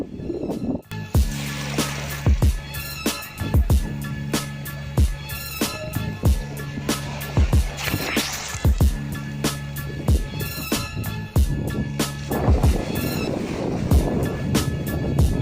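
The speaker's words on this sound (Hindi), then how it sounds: "अभी हम समंदर में खड़े हुए हैं, बेहतरीन पानी है यहाँ पे।" Sea water at Hawkes Bay beach in Karachi, heard from someone standing in the surf: a continuous wash of waves broken by repeated sharp thumps and splashes close to the microphone.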